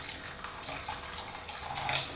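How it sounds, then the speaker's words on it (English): Hot water poured from close by over luncheon meat in a container, prepared as fishing bait. The pour runs steadily for about two seconds and splashes a little harder near the end. No one speaks. "Get some more hot water. Cover with hot water again,"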